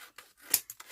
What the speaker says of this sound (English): then I am going to just cut